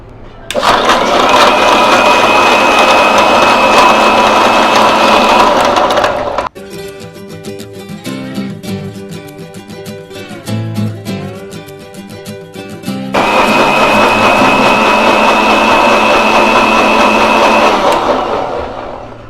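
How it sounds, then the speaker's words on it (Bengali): Electric blender whirring loudly while mixing a sweet and sour lassi of sour yogurt, running steadily in two long bursts with a quieter stretch between them. "এখন আমি ব্লেন্ড করে নিব।"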